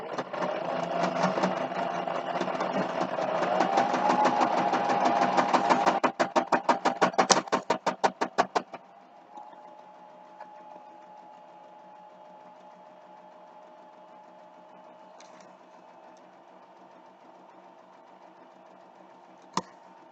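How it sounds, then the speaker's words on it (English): A sewing machine stitching a pillowcase seam runs in a loud, steady whir for several seconds, slows into a rapid series of distinct stitch thumps and stops, leaving a quiet hum and a faint click near the end. "We're all done sewing it"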